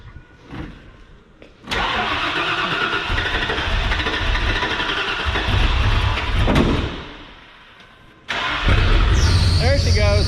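A Ford 460 big-block V8 in a stripped-down Ford Super Duty truck cranks, catches and roars to life, then settles into a loud, rough idle with a brief dip before revving up again; people talk nearby.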